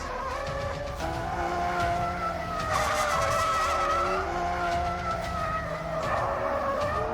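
A Lamborghini Aventador's V12 engine revs hard with rising and falling pitch while its tyres squeal and skid, loud and close for the whole stretch.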